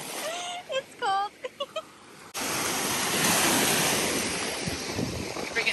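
Surf washing onto Fort Lauderdale beach: brief voices and a few tones at the start give way to a loud, steady roar of waves mixed with wind buffeting the microphone.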